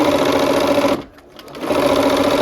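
A sewing machine runs loud and close as it stitches a quarter-inch quilt seam, with a fast steady whir that stops for about half a second and then starts again.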